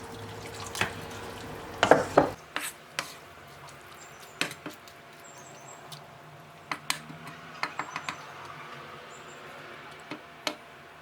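Water poured briefly into a pot of mushroom risotto, a short splash and trickle, followed by faint scattered clicks and light taps of kitchen activity in a quiet room.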